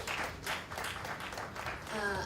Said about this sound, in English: A hand of applause, please